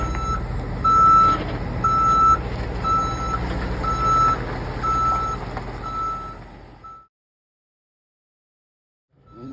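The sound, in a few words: truck reversing beeps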